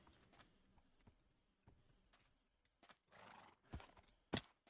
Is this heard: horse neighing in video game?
yes